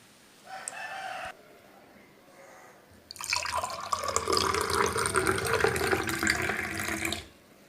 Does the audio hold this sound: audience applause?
no